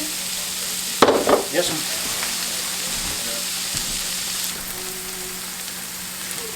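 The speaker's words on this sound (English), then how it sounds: "the onions have been cooking just for a few minutes" Onions frying in olive oil in a pan give a continuous close sizzle, with a burst of clattering stirring early on and brief speech at one point over the steady frying.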